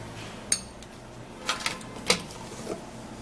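A spoon scoops a thick Vaseline and baking soda mixture from a container, making a few sparse, light clinks and taps against the dish with quiet pauses between them.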